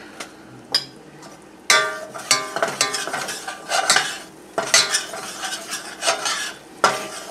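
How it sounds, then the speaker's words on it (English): Flour is stirred into white gravy in a pan, a spoon scraping and clinking against the metal in irregular strokes over a soft sizzle, close and fairly loud with no talking. "let me just kind of stir this up and see if it's what I want"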